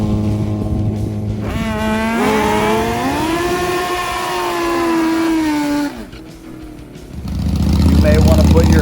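A 700-horsepower Pro Mod nitrous Suzuki drag bike at the Samoa drag strip roars close and loud, its pitch climbing then holding high before dropping off and rumbling back up, with an announcer speaking over it.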